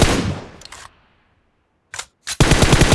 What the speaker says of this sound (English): Tap right fire button to shoot.